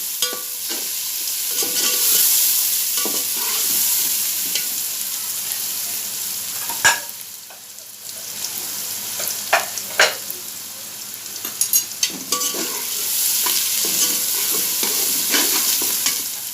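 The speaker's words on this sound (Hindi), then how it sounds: "इसके साथ ये फ्राई हो जाएगा घी में।" Steady sizzling of minced chicken frying in ghee in a pan, with scraping stirs and occasional clinks of a utensil, close and continuous.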